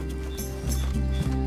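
Horse hoofbeats clip-clop at a steady trot in Red Dead Redemption II over a constant low game-engine rumble, close and fairly loud.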